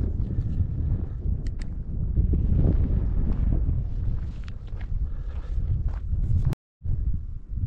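Strong wind buffets the microphone outdoors in the Trascău Mountains of the Apuseni, a steady loud rumble with gusts throughout and a brief dropout near the end.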